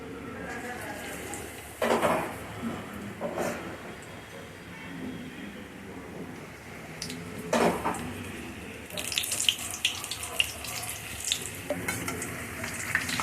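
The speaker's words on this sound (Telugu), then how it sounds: "ఈ విధంగా డిప్ చేసుకొని మనము ఆయిల్లో వేసేసుకుందాము" Mirchi bajji, batter-dipped green chillies, dropped into hot oil for deep frying, giving a steady bubbling sizzle with brief splashy bursts as pieces go in, close and moderately loud, a voice talking faintly at times.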